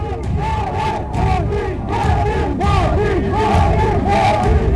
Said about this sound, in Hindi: केजरीवाल के सामने ही मोदी मोदी के नारे लगने लगे